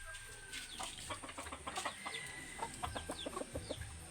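A labuyo jungle fowl clucks nearby in a series of short, irregular calls, with other birds faintly in the background.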